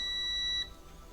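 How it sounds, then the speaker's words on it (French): A steady, high electronic beep from a Tesmen TM-510 multimeter on continuity test holds for about half a second and then cuts off, leaving quiet background hum. "Et après, vous avez le bip avec la résistance."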